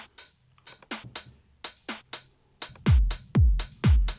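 An electronic drum groove builds from crisp claps and snare hits into deep, punchy kicks with a falling boom, a simple repeating beat.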